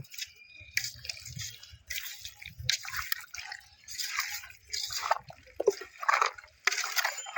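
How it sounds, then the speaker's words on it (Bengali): Raw mutton is worked into an oily marinade by hand, giving close, wet squelching and slapping sounds in repeated irregular bursts. "ব্যাস, এখন ভালো করে মাখিয়ে নেব।"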